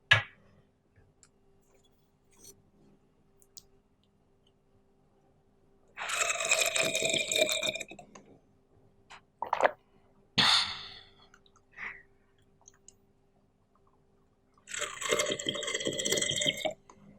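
Someone drinks water from a bottle up close in a quiet ASMR setting. Two long bursts of gulping and sloshing are separated by a few short clicks, breaths and small sips in near silence.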